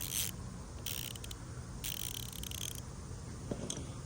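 A 90-tooth Capri 1/4 inch ratchet clicks in several quick bursts of fine, rapid ticking, close and fairly faint, with short pauses between strokes.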